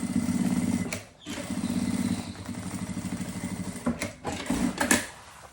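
A sewing machine stitches a closing seam with a short stitch length, its fast mechanical whirring running close and steady, pausing briefly twice between runs of stitching, with no one speaking.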